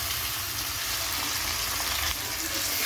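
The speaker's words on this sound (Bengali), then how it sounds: "এবার আমি শাকটা দিয়ে দিলাম।" Sweet potato leaves hitting hot oil with browned garlic in a pan give a loud, close, continuous sizzle and hiss, steady throughout with no voices.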